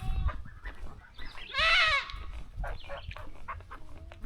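A baby goat on a dairy farm gives one loud, close bleat in the middle, with quieter shuffling and small farm noises before and after.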